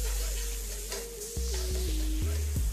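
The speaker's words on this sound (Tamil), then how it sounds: "வெங்காயத்தை நல்லா ரோஸ்ட் பண்ணிடுங்க. பொன் முறுவல் ஆகிற வரைக்கும் ரோஸ்ட் ஆகட்டும்." Onions frying in oil in a pan for prawn biryani over a moderate flame, a steady close sizzle with occasional stirring scrapes, no talking.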